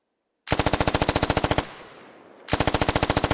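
An automatic rifle in the video game Squad fires at a sandbag in two long rapid bursts of evenly spaced loud, close shots. A short lull with faint noise separates the two bursts.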